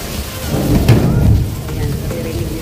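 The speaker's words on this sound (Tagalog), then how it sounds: "Ayan, naririnig nyo yung lakas ng ulan." Heavy rain pours down steadily at night, with a deep roll of thunder swelling near the middle of the short clip and a dense hiss of rainfall on surfaces throughout.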